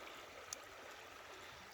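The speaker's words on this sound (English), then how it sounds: "The whole property is surrounded with water, or running water," Fresh running water on a wooded rural property flows in a steady, faint, even trickling wash with no voices.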